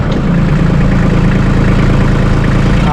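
A Massey Ferguson 1825E compact tractor idles close by with a loud, steady, low diesel rumble and an even throb. No voices are heard.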